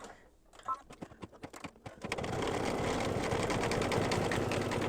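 An embroidery machine stitching white thread to tack down applique edges on an in-the-hoop mug rug: rapid rhythmic needle taps that build into a steady, loud, continuous mechanical buzzing.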